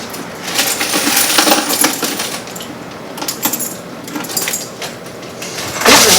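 Coins from a laundromat change machine clatter and jingle repeatedly as they drop into a metal tray, a bright rattling that swells and fades in bursts, close and fairly loud.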